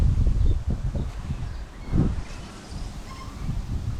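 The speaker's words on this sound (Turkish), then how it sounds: "rüzgar sesi falan da geliyordur size" Steady wind gusting and buffeting nearby in a house's back garden in New Zealand, with rustling noise rising and falling in uneven bursts and no talking.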